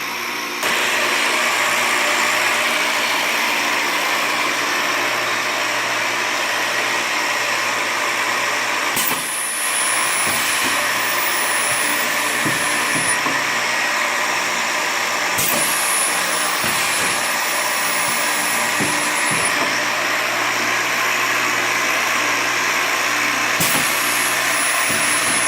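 A Biesse Forecon 51 horizontal and vertical boring machine powers up and runs with a loud, steady mechanical whine and broadband roar. Sharp transient clunks mark its cycling at intervals throughout, and no one speaks.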